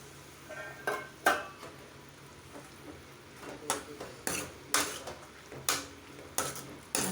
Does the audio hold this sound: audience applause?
no